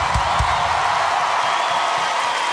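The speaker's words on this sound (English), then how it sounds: "Give him a round of fucking applause" A concert crowd at the Royal Albert Hall applauds and cheers in a dense, continuous wash of clapping and whoops, loud and close throughout without letup.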